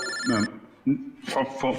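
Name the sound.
telephone ringing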